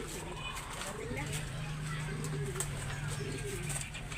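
Pigeons coo in a breeding loft with low, soft, rolling calls repeating throughout. A voice talks faintly under a background of light shuffling.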